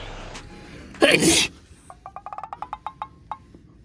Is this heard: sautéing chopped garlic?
no